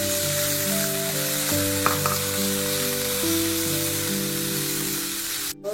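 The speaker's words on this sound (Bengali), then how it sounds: "এখন আমি তিতকলাটা ঢেলে দেব।" Bitter gourd fries in hot oil with garlic in a pan, giving a steady, close, crackling sizzle with a few stirring clatters and a brief knock near the end.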